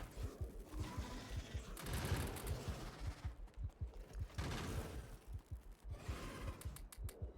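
Automated gun turrets in Factorio fire in rapid repeated bursts against attacking enemies, a steady stream of close, punchy shots with a couple of denser volleys.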